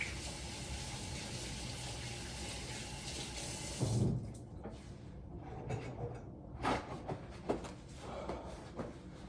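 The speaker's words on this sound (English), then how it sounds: "I'm gonna go wash my hands now." Running tap water splashes steadily over hands being washed at a sink, a continuous broadband rush for about four seconds, then it stops and leaves scattered softer splashes and handling sounds.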